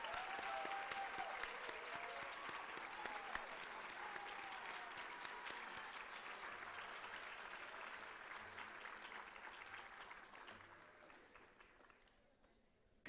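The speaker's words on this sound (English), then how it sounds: "Let's give one more round of applause for all of our Go Teacher completers" Sustained applause from an audience at a K-State Global Campus CIMA Go Teacher closing ceremony, celebrating the program completers, a dense steady clapping that runs about twelve seconds before tapering off near the end.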